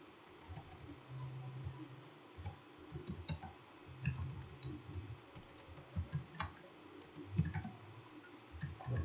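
A computer keyboard is typed on in a quiet office setting, with soft irregular keystroke clicks in short bursts, close and faint, and no voice.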